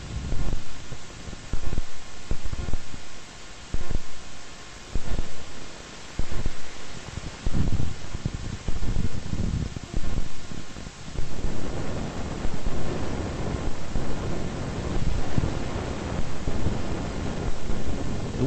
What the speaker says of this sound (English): It was quite windy on that day